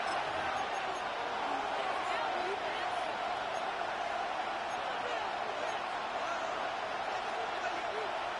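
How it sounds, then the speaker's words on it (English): Stadium crowd at an NFL game roars continuously and densely before a third down, a loud unbroken wash of noise with a commentator talking over it. "The crowd cranking it up another notch before 3rd and long."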